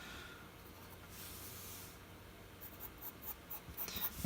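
Pencil scratching and shading across paper while filling in a vampire head drawing, a steady soft hiss of graphite strokes that grows slightly busier and more textured toward the end.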